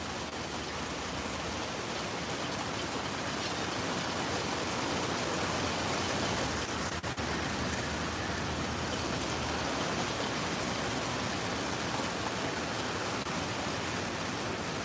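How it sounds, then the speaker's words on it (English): Rain falling steadily as a dense, even hiss across the whole stretch, loud and close, with no pauses and no voices. "So even though the rain is still coming"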